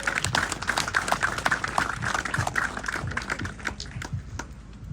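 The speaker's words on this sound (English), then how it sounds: "So please, round of applause to First Five of Merced County." An outdoor crowd at a playground opening gives a round of applause, dense scattered clapping that holds steady and then thins toward the end.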